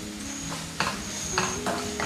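Finely sliced onion cooking in hot oil for a brinjal curry, with a steady low sizzle under a few short scraping stirs and light utensil clinks, close and fairly quiet.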